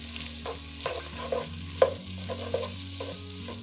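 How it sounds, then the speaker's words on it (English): Onions fry and are stirred in hot oil for Hungarian goulash: a steady close sizzle with soft scraping stirs and a low background hum, no talking. "You're gonna also wanna add these carefully because this is hot oil"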